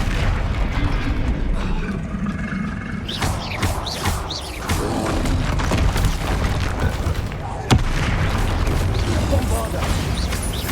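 Bombarda blasting spells burst during a Hogwarts Legacy combat fight on Xbox Series X, booming thuds and a sharp crack near the end, layered over dense battle noise and in-game voices.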